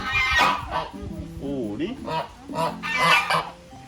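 Close-up honking and quacking from waterfowl, several nasal calls in quick bursts with a brief voice in the background.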